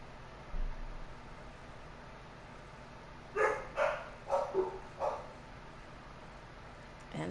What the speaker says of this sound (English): That's my dog's barking.